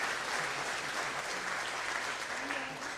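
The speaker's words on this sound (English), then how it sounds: "So let's give a round of applause for those folks too." Steady applause from the audience fills a large hall at a FIRST Tech Challenge CENTERSTAGE kickoff event in Massachusetts. It sounds soft and distant and holds an even level for several seconds without a break.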